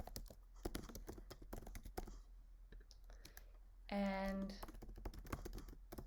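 A name being typed on a computer keyboard while filling in a field on a self-service invoice portal: a burst of quiet, quick key clicks heard beneath a person's speech, with a brief electronic tone partway through.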